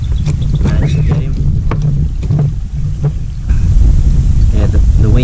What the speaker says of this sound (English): the wind's definitely picked up because I'm traveling pretty quick down here